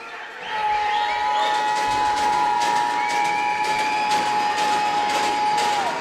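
A loud men's college basketball crowd roars in a dense, sustained wall of cheering near the end of a close game, with a long steady whistle-like tone held over it.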